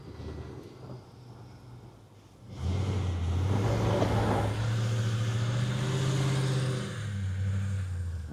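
A V8 Toyota Tundra pickup climbs a hill in four-high, quiet at first, then its engine swells into a loud, sustained, low drone that holds steady and eases slightly near the end.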